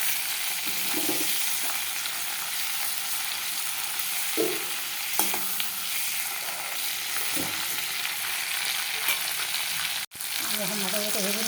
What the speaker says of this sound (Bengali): এখন মাথাটাকে ভেজে নিচ্ছি